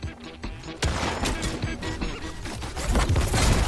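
SMG fire in Fortnite: a dense, rapid stream of close gunshots and impacts, loud and continuous for a few seconds.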